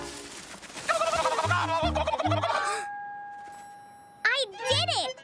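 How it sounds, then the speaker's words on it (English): A loud cartoon turkey gobble rattles out, answered by wavering calls, with low thumping tones and a sustained musical note in between. "That's a turkey!"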